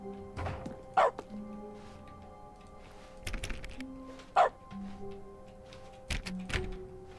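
A dog barks in dog mode of the video game The Stanley Parable, several short woofs spaced across the clip over a quiet background with faint tonal game sounds.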